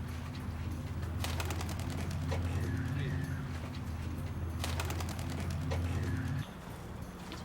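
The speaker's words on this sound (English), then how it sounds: "Here's another pigeon, Zay." A pigeon coos in soft repeated phrases over a steady low rumble, with people talking nearby at a pigeon loft.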